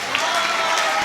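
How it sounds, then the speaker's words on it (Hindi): Audience applause at a mushaira poetry gathering, a brief burst of dense clapping and crowd noise filling the whole moment. "एक मर्तबा दोस्तों आप अपने लिए तालियां बजाएं।"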